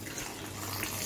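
Boiled hibiscus flower water pours steadily into a pot of rasam, a continuous close liquid splash and trickle lasting about a second, with no talk.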